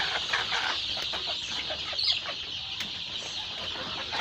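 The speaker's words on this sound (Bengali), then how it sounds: "এই ফার্মি মুরগির বাচ্চা এই যে দেখেন এখানে বড়গুলো আছে" Fayoumi chickens cluck steadily and close by, a continuous busy chatter of several birds with no pauses.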